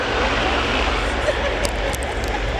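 An Austrian Air Force Saab 105OE jet trainer performs an air show display at RIAT Fairford, its engine a loud, steady broadband roar filling the air, with a commentator speaking over it.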